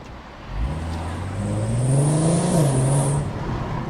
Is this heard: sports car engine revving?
yes